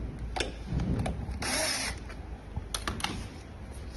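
A power screwdriver tightens screws during a battery replacement in short whirring bursts, close up, with clicks and handling noises between them.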